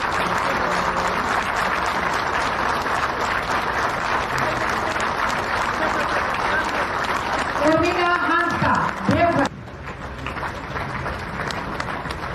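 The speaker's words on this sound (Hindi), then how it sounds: "तालियों में कमी हो रही है, जोर" Crowd at a political rally clapping, a continuous roar of many hands for most of the stretch, with a voice calling out over it near the end before the applause drops to a thinner, quieter patter.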